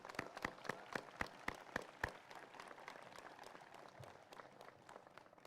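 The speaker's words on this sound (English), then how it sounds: "How about another round of applause for Catherine and Brianna" Applause at a college commencement ceremony, heard faintly and from a distance: a few sharp, distinct claps stand out at the start before settling into a soft, thinning patter.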